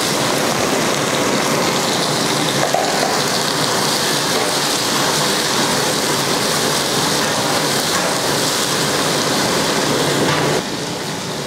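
Chicken, a kilogram of it, tipped into golden fried onions in a large pot for biryani sizzles loudly and steadily, a dense hiss of frying that holds for the whole stretch and eases slightly at the end.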